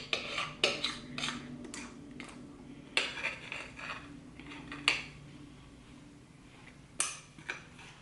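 Thick Christmas candy mixture is scraped from the edges of a pot and poured into a pan, with close metallic scrapes and clinks of a utensil against cookware, a few sharp knocks spaced across the moment.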